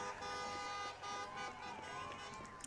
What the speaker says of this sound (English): They're the ones honking.